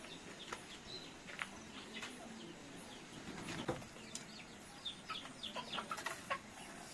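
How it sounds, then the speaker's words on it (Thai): Farm chickens cluck in soft, scattered bursts at a rural Karen hill village. The calls are faint and distant against a low, steady outdoor background. "อันนี้ไก่นะคะแล้วก็จะเลี้ยง"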